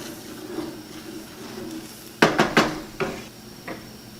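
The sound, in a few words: stirring sausage gravy in a pan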